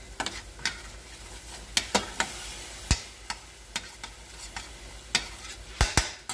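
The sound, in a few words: sautéing Puerto Rican-style chile ingredients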